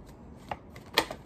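Tarot cards being shuffled and dropped give a few soft, quick flicks and slaps, faint and close, with a sharper clatter near the end.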